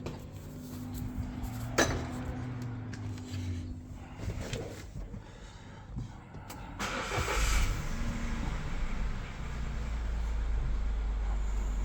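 A Chevrolet Tracker with an engine fault, its starter cranking before the motor catches and settles into a low steady idle, with a few clunks and knocks around it.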